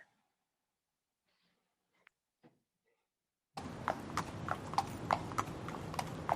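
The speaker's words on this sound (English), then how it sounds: "That sounds like a real horse." After a near-silent stretch with a couple of faint clicks, a steady run of hollow horse clip-clops starts up, close and rhythmic.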